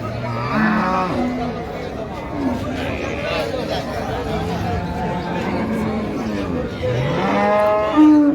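A Friesian crossbred cow and her bull calf moo at a busy Raniganj livestock market, with several low, sweeping calls rising above constant background chatter and close voices.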